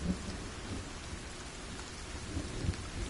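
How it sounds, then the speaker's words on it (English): Rain falls steadily with low rumbling thunder in the survival video game The Forest, a soft continuous patter with a few deeper rolls and no voices. "It's raining!"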